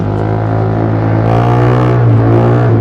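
A remapped Honda Giorno 160cc scooter, bored up from 54mm to 60mm and fitted with a tuned CVT, revs loud and close with a dense, steady engine drone that swells slightly as it accelerates.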